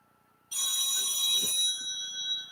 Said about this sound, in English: sorry, my phone. Somebody's calling.